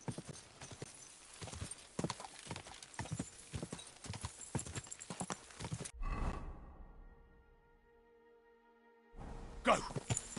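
Horse hooves clip-clop in a quick, steady rhythm on a road in Kingdom Come: Deliverance II, close and clear, then stop abruptly and a short tonal neigh follows, before a final burst of movement.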